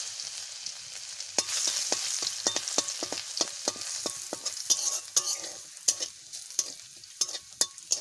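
Chilli leaves sizzle and crackle in hot oil with a steady bright fizz, while repeated sharp clicks of stirring cut through, close and fairly loud with no voices.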